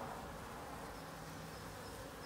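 A dense, steady buzz of many unhappy honey bees swarming a few feet away in a backyard, continuous and agitated throughout with no pauses.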